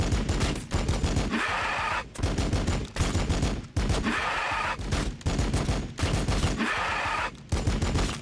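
Rapid bursts of gunfire from Warhammer 40,000: Battlesector, loud and dense volleys repeating in several waves with brief gaps between them, no talk over it.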